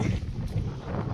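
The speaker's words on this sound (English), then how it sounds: "It's a windy day today." Steady wind blowing outdoors on a cold, windy day, a continuous low rumble buffeting the microphone at close range with no clear pauses.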